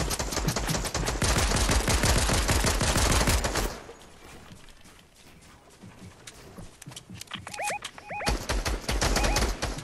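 Rapid automatic gunfire from a Fortnite match crackles in a dense burst, stops abruptly, then returns in scattered shots alongside short electronic tones before another loud burst of fire.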